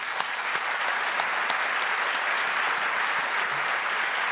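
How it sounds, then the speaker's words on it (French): An audience at the opening plenary of a parks congress applauds steadily, a dense, even wash of clapping for several seconds with no speech over it. "je vous propose de les applaudir"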